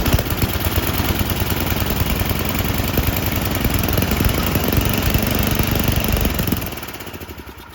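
A Tecumseh snowblower engine, just pull-started, runs loudly with a rapid chugging beat close by, then drops to a quieter, slower putter near the end.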